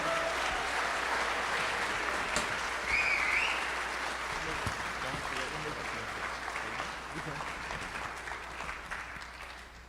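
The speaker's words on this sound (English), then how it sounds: "So Hudson, please come to the stage. Please give him a big round of applause." Steady audience applause fills a conference hall as a guest named Hudson walks onto the stage at a one-day e-commerce mastermind event, sustained and dense throughout with a slight swell early on, then gradually easing.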